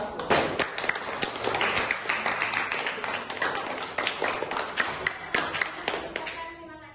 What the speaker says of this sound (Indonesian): berikan tepuk tangan kepada kelompok 1